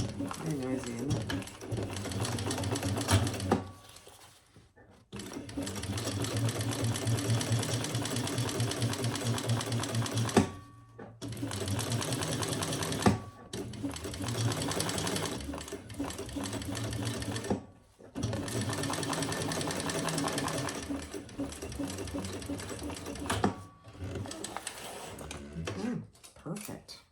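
A sewing machine top-stitching the upper lining of a leather crossbody bag, running in long rapid bursts of stitching separated by short pauses, loud and close.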